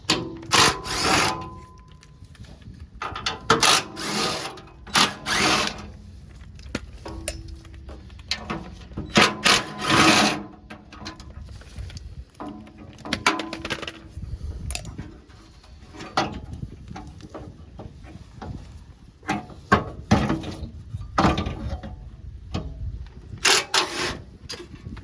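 A power tool works on the skid plates of a third-generation Toyota 4Runner V6, sounding as irregular bursts of whirring and rattling mixed with clanks of loosening metal parts, close by and with no speech.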